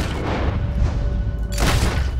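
A gunshot in Red Dead Redemption 2 cracks loudly as a booming blast over a rumbling low background, with the sharp report landing about two-thirds of the way through.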